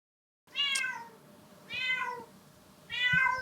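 A pet cat meows three times in a row, each cry rising then falling, fairly close and distinct against a quiet room with a faint steady hum.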